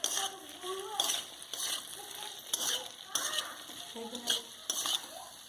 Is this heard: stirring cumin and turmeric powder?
yes